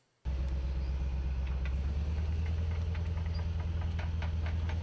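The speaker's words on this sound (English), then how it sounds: "it actually sounds like the Panzerhaubitze's engine is pretty quiet" A self-propelled howitzer's heavy engine starts up abruptly and runs at a steady, low rumbling idle with faint knocking, fairly close and continuous.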